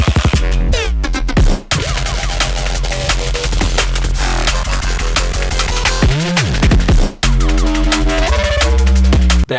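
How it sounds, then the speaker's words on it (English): Heavy foghorn-style synth bass preset from the Radium pack for Serum 2, loud droning low notes with gritty harmonics in a dense electronic track, broken by a couple of brief cutoffs. "You ready for the foghorns?"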